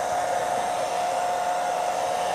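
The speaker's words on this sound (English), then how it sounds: "Nothing like using a blow dryer on a YouTube live." A blow dryer drying metallic paint on a thrift-store lamp being given a faux vintage brass finish: a loud, steady, high-pitched whirring hum that runs unbroken and close, with no speech.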